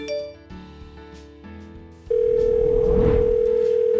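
The Silent Beacon wearable personal safety device places a phone call: a few soft tones and clicks give way to a loud, steady dial tone that holds to the end.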